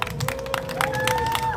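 A short burst of audience clapping at a current-affairs forum, a steady patter of many hands with a few voices and tones mixed in.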